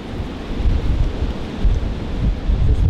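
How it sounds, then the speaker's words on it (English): Strong wind buffeting the microphone in a continuous low rumble with gusty swells throughout, loud and close. "It's just way too windy."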